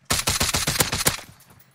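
A rapid burst of about eight evenly spaced, loud, close gunshots from Call of Duty: Warzone, fired in quick succession and then fading out with a short decaying tail, no talk.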